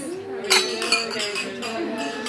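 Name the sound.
glasses clinking during a toast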